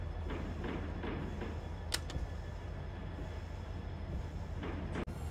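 A train rolls steadily in Run8 Train Simulator, the game's continuous low rumble of wheels and rail carrying through, with a couple of brief sharp clicks or knocks along the way.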